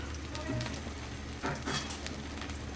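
Chopped onions sizzle in mustard oil in a home kitchen pan, a soft continuous crackle with occasional louder spatters and stirring clatter, quiet and close.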